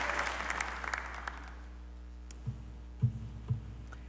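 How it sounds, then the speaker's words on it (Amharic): A church congregation claps together in a dense burst of applause that fades out within a couple of seconds, followed by a few soft, low thumps in the quiet hall. "እስኪ አጨብጭቡ ለጌታ ክብር"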